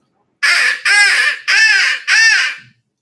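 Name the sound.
crow call device imitating a crow's caw for turkey hunting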